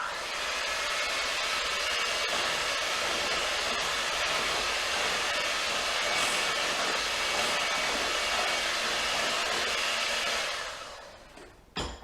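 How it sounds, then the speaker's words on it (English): An electric hand mixer whirs continuously while beating a smudgies mixture, a steady loud buzzing drone that runs unbroken for about ten seconds before cutting off abruptly. "Then we're gonna go ahead and use our hand mixer."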